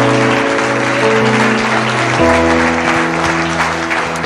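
Church congregation claps during a worship service, steady sustained clapping under loud held organ or keyboard chords that shift partway through.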